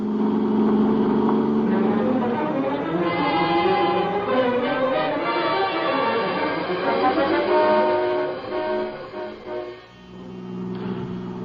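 A car engine accelerates hard in a radio drama chase scene, a sustained, loud, wavering mechanical roar with shifting tones that dips briefly near the end before picking back up.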